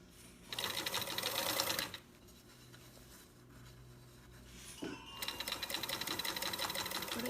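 A sewing machine stitches along the fabric edge of a drawstring bag in two close, steady whirring runs of rapid needle chatter separated by a short quiet pause.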